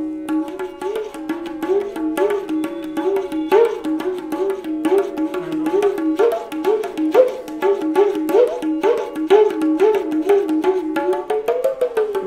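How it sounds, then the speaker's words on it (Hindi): A khanjari frame drum is struck in a quick, steady rhythm of jingling taps, close and continuous over a sustained melodic tone, at a devotional singing gathering. "खंजरी की अब आवाज।"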